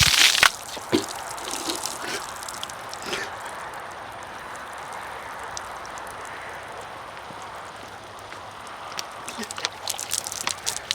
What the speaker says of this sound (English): pouring this water over my head